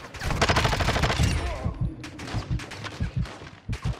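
Rapid automatic gunfire from the video game Call of Duty Warzone DMZ, a dense burst of shots followed by scattered single and short bursts of fire, loud and close.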